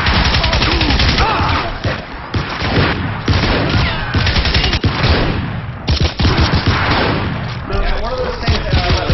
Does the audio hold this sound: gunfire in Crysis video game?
yes